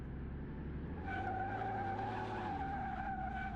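A tractor built for drifting in Car Mechanic Simulator skids, its tires squealing in a wavering, sustained screech over a droning engine, moderately quiet and with no talk.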